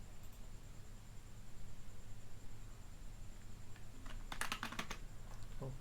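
Fingers type code on a computer keyboard, faint and steady at first, then a quick cluster of sharper key clicks near the end, in a quiet room with no talking.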